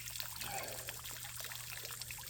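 Water from a backyard garden waterfall trickles and pours steadily, a soft continuous splashing wash with a low hum underneath and no talk.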